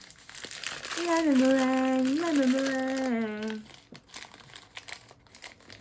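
Plastic LOL Surprise blind bag packaging crinkles and rustles steadily up close, with a long drawn-out spoken phrase over the first half and scattered crackles continuing after.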